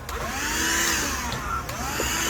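A vacuum cleaner sucks up chaff from coffee roasted in a Behmor 1600, a steady close whine and rushing hiss with a few faint bumps.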